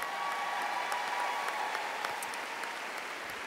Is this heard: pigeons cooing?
no